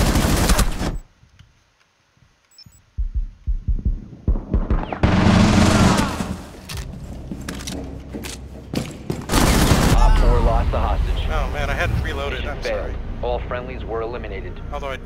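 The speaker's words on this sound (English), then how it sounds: "What were they using? Machine guns, dude." Machine guns rattle in rapid bursts during a team deathmatch in Rainbow Six Siege, loud fusillades broken by a short lull, with players talking over the gunfire.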